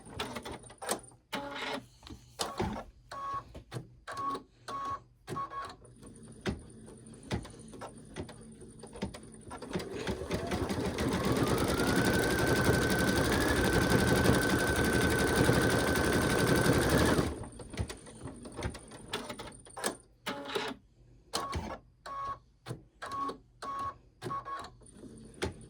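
A home embroidery machine stitches a design in a 4x4 hoop, its steady mechanical whirring running for several seconds mid-clip, with fainter intermittent stitching bursts before and after.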